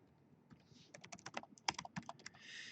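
Quick, irregular keystrokes on a computer keyboard, including backspace presses, clatter close up and fairly soft in a quiet room for about three seconds.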